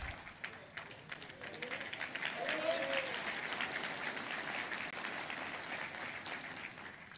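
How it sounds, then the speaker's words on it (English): Applause from an audience at an Army awards breakfast, a moderately distant, steady patter of clapping that holds through the moment with faint murmuring underneath. "Let's give them a round of applause, Honey Badgers."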